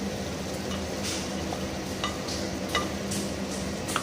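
Fenugreek and cumin stirred in a hot pan for a mutton curry, a steady close sizzle with scattered scraping clicks of the spoon throughout, no voices.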